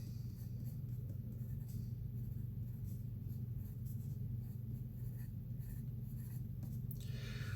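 A pen scratches out a label on paper in quick, faint strokes over a steady low rumble of background noise, with no talking.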